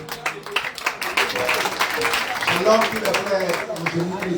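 A church congregation claps at a revival seminar, a dense burst of applause that rises and holds for several seconds, mixed with voices speaking and calling out over it.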